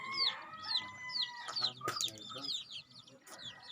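Chickens and roosters at a large poultry farm cluck and squawk in quick, overlapping calls, with a brief crow-like cry mixed in among the nearby flock, while someone talks quietly underneath.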